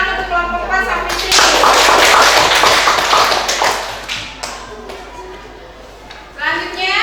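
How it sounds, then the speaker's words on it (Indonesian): Classroom applause for a student group, a burst of dense clapping from many hands that swells quickly, holds loud for a few seconds, then thins out as a teacher talks over the fading claps. "Tepuk tangan untuk kelompok 4 Safitri."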